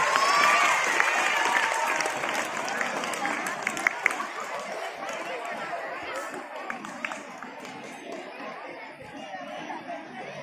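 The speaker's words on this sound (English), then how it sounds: "Big round of applause." Applause and cheering from a crowd of pupils at a school Children's Day celebration, a dense continuous clatter of clapping mixed with lively chatter and shouting voices throughout.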